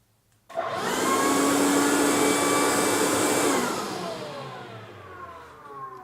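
A DeWalt DCV586 cordless vacuum cleaner switches on abruptly and runs with a loud, steady, high-pitched whine, then winds down gradually as the motor slows near the end.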